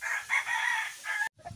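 A Golden Boy Sweater gamecock rooster, an eight-month-old straight-bred bird, crows once up close in a loud, drawn-out call that cuts off abruptly, followed by faint clucking.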